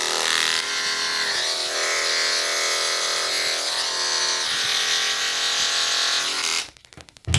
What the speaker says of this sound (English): So I'm just gonna clipper over comb this whole thing as I untangle my clippers from this mess.